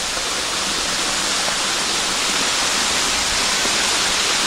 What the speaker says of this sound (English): Down there's another little cascade.